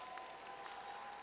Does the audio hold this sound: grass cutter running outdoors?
no